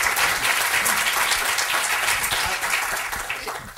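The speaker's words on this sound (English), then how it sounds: "let's give an applause to Mike Hannigan" Audience at a business event applauding Mike Hannigan, with dense, sustained clapping that stays loud and even throughout.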